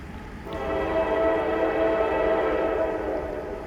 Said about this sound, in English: you should be hearing the train blowing its horn any minute there.